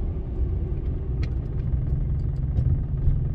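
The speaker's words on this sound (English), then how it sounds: "And the car is idling also way, way better." A Daewoo Matiz engine idling after valve guide and valve work, a low steady rumble with a faint ticking on top, close and continuous with no speech.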